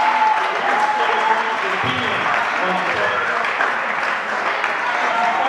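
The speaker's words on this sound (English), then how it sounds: "Please give me a round of applause." Steady, loud applause from a debate audience at a university sports games event fills the whole stretch, with voices mixed into the dense clapping.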